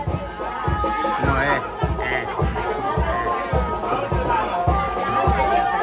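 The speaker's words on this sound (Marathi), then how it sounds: "एकविरीची गर्दी भरपूर गर्दी आहे" Large crowd of pilgrims at Ekvira temple, a dense hubbub of many voices with a steady rhythmic drumbeat pulsing underneath, close and continuous throughout.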